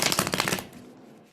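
Tarot cards are shuffled in a quick, crisp riffle of rapid flicking for about half a second, then fall silent.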